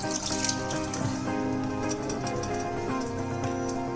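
Base gravy for chana masala (chickpea curry) is poured into a hot pan, making a steady, continuous liquid splashing and sizzling throughout over a tonal background.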